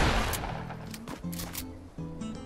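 Rapid burst of gunfire from the Fortnite video game, several sharp shots in quick succession over a steady game backdrop, close and fairly loud with no talking.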